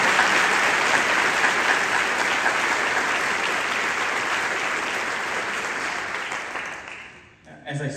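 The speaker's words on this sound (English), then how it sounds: "I want to give all these candidates a round of applause for being willing to serve in public life." Sustained loud applause from a debate audience honoring state senate candidates for District 27, steady and dense for about seven seconds before tapering off near the end.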